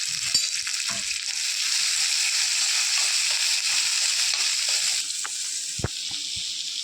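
Onion, green chili and curry leaves sizzling in hot oil, a steady bright hiss with a few stirring knocks, loud and close with no voices.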